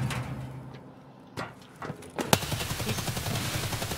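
Gunfire in the game Escape from Tarkov, with a couple of sharp isolated shots followed by a loud report and a rapid burst of repeated fire, no voices.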